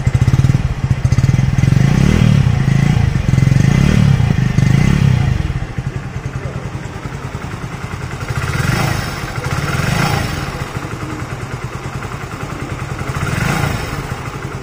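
Exhaust note of a 2024 Hero Passion Plus OBD2 motorcycle, a loud close idle that pulses with a few throttle blips, then settles to a lower, steadier putter with occasional small revs.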